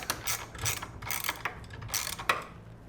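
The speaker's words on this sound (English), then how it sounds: "So I'm going to go ahead and tighten the front ones down." Bolts being tightened on the motor plate of a Dillon RL1100 reloading press with DA3000 drive, a ratchet clicking in several quick bursts of mechanical ratcheting, close and fairly loud with no talk.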